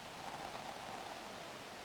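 A soft, steady hiss of white noise sits as a background synth layer in a beat, faint and even with no rhythm or voice.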